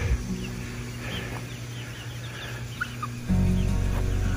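Chickens and chicks in a weedy farm chicken yard give scattered clucks and soft peeping calls over a steady low background hum that grows louder near the end.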